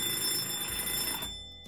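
A telephone rings with a bright, sustained bell tone, fairly loud at first and then trailing away as it cuts off near the end.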